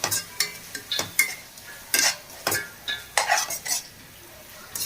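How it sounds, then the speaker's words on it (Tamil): Turmeric powder sautéed on low heat for prawn biryani, a spoon scraping and clinking against the pan in quick irregular strokes, close and clear with no talking. "அந்த மஞ்சள்தூளை வந்து திரும்பவும் ஒரு அரை நிமிஷத்துக்கு வதக்குங்க போதும்"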